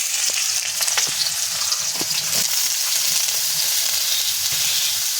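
Pointed gourd pieces frying in hot oil in a pan, giving a steady, loud, close sizzle with occasional stirring scrapes throughout, no voices.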